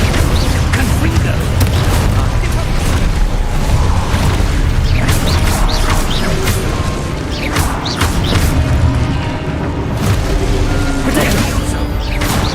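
Confringo blasting spells in Hogwarts Legacy set off a loud, continuous barrage of booms, crashes and sharp bursts in chaotic spell combat, with voices mixed under the noise.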